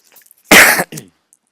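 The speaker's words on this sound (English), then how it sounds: "I'm still coughing from the slight cold that I had" A single sharp cough from a slight cold, close to the microphone, followed by a brief smaller cough, in an otherwise quiet room.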